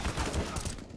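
Auto shotgun fire in a CS:GO match, rapid muffled blasts in a dense burst, fairly quiet and blended with game ambience and a faint voice.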